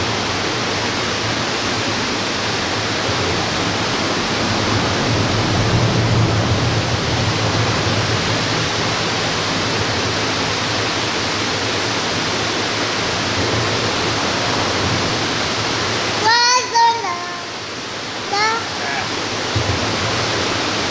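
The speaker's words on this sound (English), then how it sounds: "where the water's pouring out" Water pours out of the Tallulah Gorge dam in Georgia in a steady, loud, broadband rush that fills the whole stretch, with brief bird chirps near the end.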